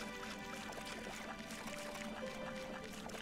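Footsteps splashing through shallow water as a character wades along in the video game Aurora: A Child's Journey, a steady soft sloshing and trickling under a continuous layer of game music and ambience.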